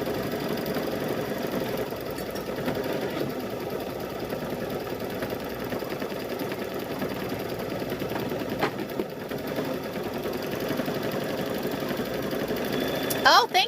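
A sewing machine quilts a wacky gnome patchwork lap quilt, giving a steady mechanical whir that hums on unbroken throughout with a faint clatter at the end and some talk beneath it.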